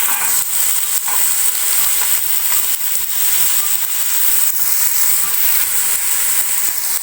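Finely chopped carrots sizzle and fry loudly in a pan for a vegetable soup, with a steady dense hiss and occasional scraping stir strokes, no talking.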